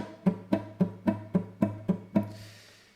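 A single low guitar note plucked over and over in an even quaver rhythm, eight steady repeated hits with no chords, ringing out after the last one.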